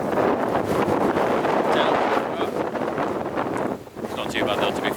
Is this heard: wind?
yes